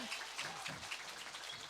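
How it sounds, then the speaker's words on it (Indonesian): Applause from an audience at a live band concert in Gang Panili, Jember, a dense crackle of clapping mixed with a voice speaking over it at moderate distance. "Tepuk tangan dong."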